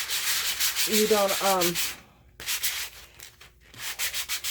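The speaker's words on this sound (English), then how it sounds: "all that's left to do is to sand it into a smooth surface" Hand sanding a thick resin coat on a live edge wood round, a steady scratchy rubbing that runs loud and close, broken by a brief pause partway through and then resumed.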